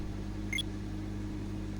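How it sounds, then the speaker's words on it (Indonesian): A microwave oven in the audio game Constant Battle gives a quick two-tone electronic beep over a steady low hum. "Nah itu suara microwave kayak gini."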